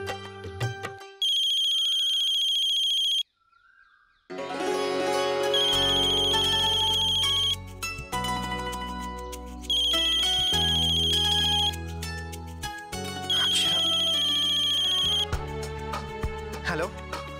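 A phone ringtone rings in a home, sounding in repeated melodic bursts after a short pause, loud and close over low background music.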